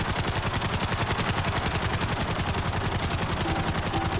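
Rapid, sustained automatic gunfire and missile fire while killing guards in the GTA Online Cayo Perico heist. A heavy rotor-like beat pulses underneath, loud and continuous with no talking.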